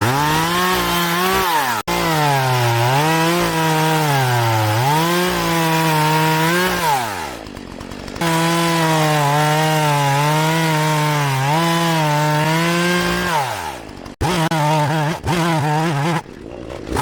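Power saw cutting through a length of tree trunk, a loud, close motor whine that rises and sags in pitch as the blade bites and bogs in the wood, running for long stretches with two brief breaks.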